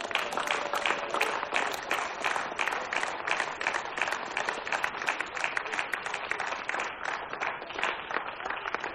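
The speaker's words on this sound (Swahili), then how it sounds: "pigia Bwana Yesu makofi" A church congregation at a live prayer and fasting service claps for Jesus, a dense, fast, continuous roomful of hand claps keeping an even rhythm throughout.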